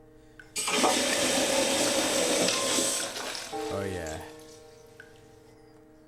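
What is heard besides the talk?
toilet being flushed in The Cat Lady video game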